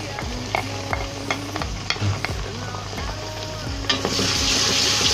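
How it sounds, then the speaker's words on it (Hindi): Onions with garlic-ginger paste frying in a pan for achaar gosht, steady close sizzle broken by sharp stirring knocks and scrapes, the hiss swelling toward the end. "अब इसको हम फ्राई करेंगे थोड़ी देर"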